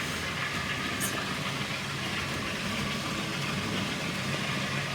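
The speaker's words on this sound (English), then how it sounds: "We've got the Class 50 chugging away there." A Class 50 locomotive runs on an N gauge model railway, giving a steady, even mechanical hum and rumble that continues unbroken throughout, with no talking.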